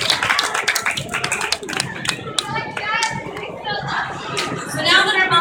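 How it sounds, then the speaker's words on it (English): Children clap during a classroom mummy-wrapping demonstration, with uneven, scattered claps mixed into chatter and excited kids' voices, close and lively. "Go ahead, thank you, round of applause."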